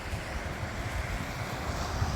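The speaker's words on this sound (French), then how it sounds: "ce matin, il y a un vent frais" Cool wind blowing along a coastal hiking path on an overcast morning, a steady low rumble of gusts buffeting the microphone, with faint surf or sea noise underneath and no speech.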